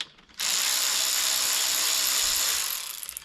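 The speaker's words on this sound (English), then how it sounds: "Just these 4 bolts to remove, very straightforward." Quick, rapid clicking of a ratchet wrench spinning out a thermostat cover bolt on a Yamaha 20A two-stroke outboard, close and continuous for about two seconds before trailing off.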